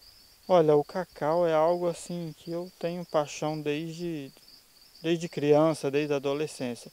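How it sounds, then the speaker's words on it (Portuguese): Crickets chirp steadily in the background of a cacao plantation in Nova União, Rondônia, Brazil, a faint high-pitched drone running under a person talking throughout. "é um lugar onde a gente ouve"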